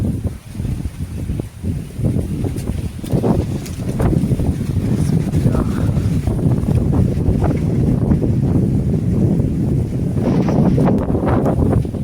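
Strong, gusty wind blowing outdoors under dark, clouded skies as a storm gathers, loud and continuous across the whole stretch with heavy rumbling buffets, no voices heard.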